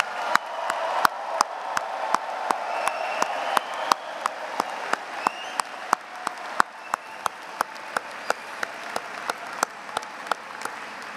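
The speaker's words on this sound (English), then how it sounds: "So a big round of applause," Graduation audience at the Duke University economics ceremony applauds the staff, a steady spread of many hands clapping with sharp individual claps standing out, fading slightly toward the end.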